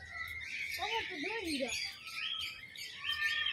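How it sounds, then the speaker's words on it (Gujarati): Parrots at a zoo chirp and call in a quick run of bright, wavering notes over constant background twittering, with people talking nearby. "ઓહો જો પોપટ જ છે બધા જો"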